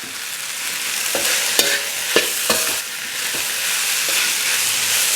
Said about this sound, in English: I'm just gonna kind of break my rice up now